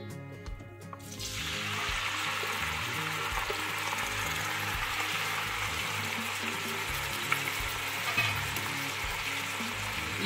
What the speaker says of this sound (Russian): обжаривать овощи, которые я нарезала